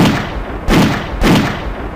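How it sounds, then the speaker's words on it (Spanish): Two loud, booming shots go off about half a second apart over a steady rumbling background, close and heavy. "cuando suenan unos disparos."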